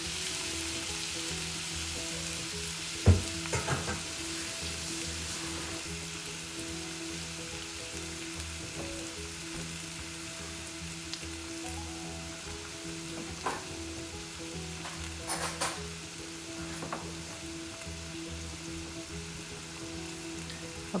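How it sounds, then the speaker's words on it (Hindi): Goat mince frying in a pan for keema, a steady sizzle with a few stirring clatters and scrapes, fairly quiet, no talking. "मेरे पास कीमा है, तो मैं इसके अंदर डाल रही हूँ।"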